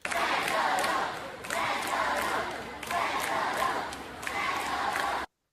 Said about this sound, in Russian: толпа начала скандировать «Федоров, Федоров»